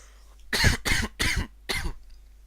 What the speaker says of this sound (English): have a bit of a cough for some reason